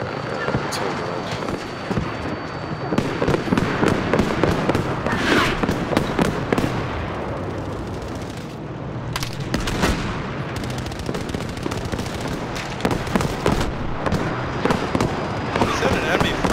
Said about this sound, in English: Is that an enemy flagman firing at us?